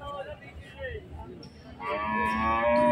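A Sahiwal cow at the Sarulia cattle and goat market in Demra gives a long, loud, resonant moo in the second half, after a stretch of people talking and background bustle.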